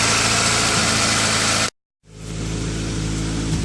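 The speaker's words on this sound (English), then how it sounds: "You might be able to hear the misfire a little bit better back here, but nonetheless, there it is." A 2000 Honda CR-V engine idling with an ignition misfire, a loud steady close-up drone that cuts out abruptly for a moment, then returns and swells back to full level.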